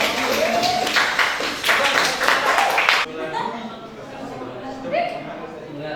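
A group claps in a brisk burst of applause for a few seconds, then it stops and people talk.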